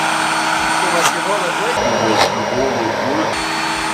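A Xiaomi JIMMY JV11 anti-mite vacuum cleaner hums steadily throughout, a continuous motor drone with shifting whine, while people talk over it.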